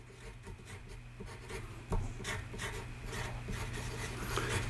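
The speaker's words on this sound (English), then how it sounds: "I'm going to write that down." A pen scratches across paper in short, quick strokes and pauses, close and quiet against a faint background hum, with no one talking.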